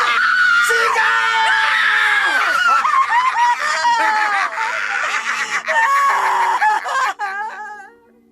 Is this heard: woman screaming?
yes